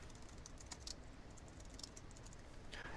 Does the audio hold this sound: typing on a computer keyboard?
yes